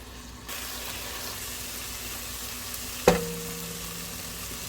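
Onion, garlic and chopped onion greens sauté in a pan for a soup base, a steady soft sizzle throughout with one sharp clink or tap partway through, no talking.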